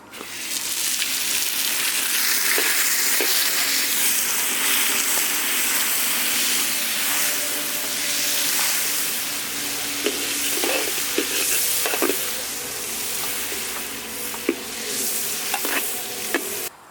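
Butter sizzling and frying in a pan over an outdoor village cooking fire in Malaysia, a dense, continuous hiss with occasional sharp pops and stirring clatter, close and fairly loud.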